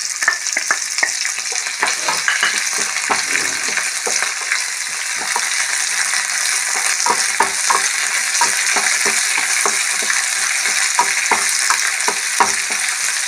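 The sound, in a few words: shallots, garlic and curry leaves frying in a pan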